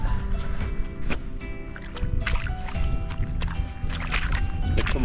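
Hailstorm meltwater rushing like a river, a steady broadband wash of flowing water that stays loud and close throughout with no talk over it.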